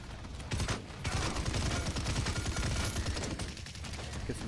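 Rapid gunfire from the hero shooter Paladins, a dense continuous barrage of shots close and loud through the whole stretch, with game effects layered over it and no talking.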